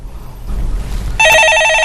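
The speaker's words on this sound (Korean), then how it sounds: "예, 전화 받아보겠습니다." A telephone ringing in a live broadcast studio: after a low murmur of room noise, an electronic ring cuts in abruptly and loudly, with bright warbling tones that hold steady to the end, no talking over it.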